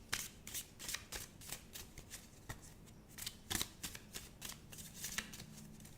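Tarot cards being shuffled, a quick series of crisp riffling bursts repeating at a steady rhythm, close and fairly quiet, with no talking over them.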